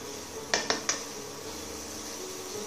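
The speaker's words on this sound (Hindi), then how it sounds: "इसे तेज गैस पे सिर्फ 1 मिनट के लिए भून लेंगे" A spatula strikes a pan three times in quick succession while vegetables with garam masala and fresh coriander stir-fry over a high flame, set against a steady, faint background hum.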